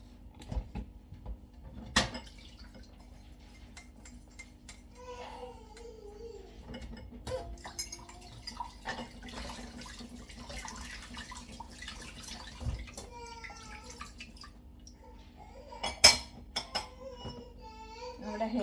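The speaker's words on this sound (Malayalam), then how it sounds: "ഇനി നമുക്ക് ഈ കിടക്കുന്ന വെസൽസ് എല്ലാം ഒന്ന് ക്ലീൻ ചെയ്ത് മാറ്റാം." Dishes and vessels are washed under running water in a home kitchen, with sparse clinks of pots and cutlery and short splashes over a quiet trickle. Scattered faint voices are heard in the background.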